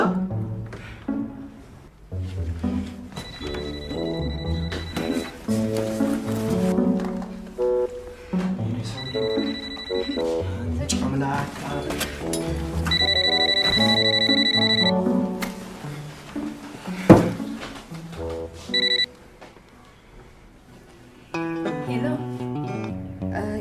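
A telephone rings in repeated electronic bursts during a comedy scene, sounding over steady background music with voices talking in between.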